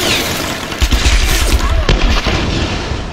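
Rapid bursts of gunfire in the video game Tomb Raider (2013) crackle and boom in quick succession, loud and close, with a sharp blast standing out partway through.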